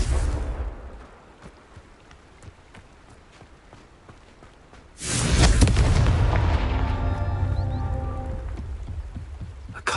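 A fiery spell explosion in the Hogwarts Legacy video game: a quiet stretch, then a sudden loud boom that settles into a sustained rumbling crackle with ringing shimmer tails.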